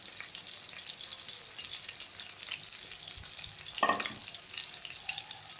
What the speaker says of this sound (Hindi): ये जो मैं फिश फ्राई कर रही हूँ ये काला रोहू फिश है